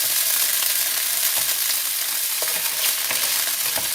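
Butter and oil sizzle steadily in a frying pan, a loud, continuous hiss with occasional small pops and crackles, close up and with no talking.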